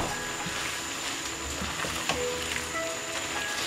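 Pan-fried tofu with red pepper strips is stirred and tossed in a wok over a steady low sizzle, with soft scraping and occasional small clinks of the spatula and no talking.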